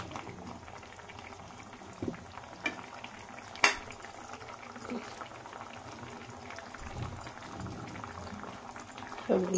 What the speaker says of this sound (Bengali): তো জলটা ফুটে গেছে, আমি এবার মাছগুলো দিয়ে দেব।